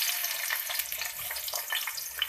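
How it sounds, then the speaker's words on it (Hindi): Chopped onion sizzling steadily in half a cup of hot oil at the start of a keema matar curry, a dense, continuous crackling fry close up with no voices. "प्याज को फ्राई करेंगे ऑयल में।"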